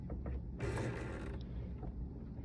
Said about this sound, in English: I'm going to reach to the side of my sewing machine and I'm going to turn that wheel towards me